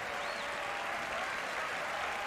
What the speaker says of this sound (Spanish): Un aplauso para mí mismo.